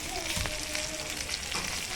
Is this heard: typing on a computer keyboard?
no